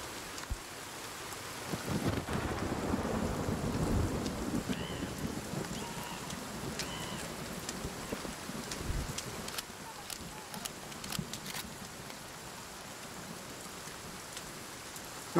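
Heavy rain pours down in the survival game Sons of the Forest, a continuous hiss of drops on surfaces with low thunder rumbling underneath, swelling in the first few seconds and then easing slightly.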